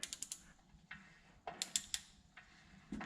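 Crisp ratcheting clicks from a torque wrench set to 50 foot-pounds while tightening a K5 Blazer wheel hub, coming in quick bursts with short pauses between them, close up and fairly quiet.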